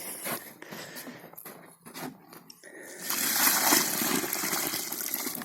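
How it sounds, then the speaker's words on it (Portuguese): Water gushes and splashes steadily, as if poured or filling, at the site of a well being cleared and dug out; the flow starts softer and intermittent, then becomes a louder continuous rush. "colocação de água"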